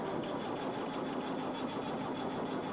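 Engine of a camper van running in freezing winter cold at -13°, a steady, even mechanical drone with a fast rhythmic chatter, close and constant with no talking.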